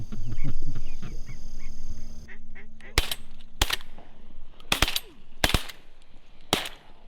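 Several sharp shotgun blasts ring out during a teal duck hunt, with five loud reports spaced over a few seconds after ducks and other birds call. Hunters talk before the shooting starts.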